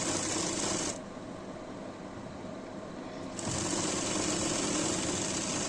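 A sewing machine stitches the side seams of a nightie with a fast, steady mechanical whir. It eases to a softer pace for a couple of seconds, then speeds back up to full rattle. No talk.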